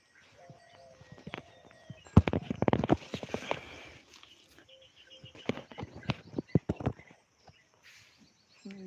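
Several bullocks' hooves clop unevenly on hard ground as they walk past close by while out grazing, with scattered bird calls and a quiet hum in between.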